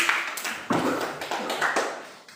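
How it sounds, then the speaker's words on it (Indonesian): Classroom applause for a student group after their presentation, a burst of hand claps that swells and dips in a few uneven waves, close and fairly loud, with no talking. "tepuk tangan untuk kelompok 3 sudah presentasi"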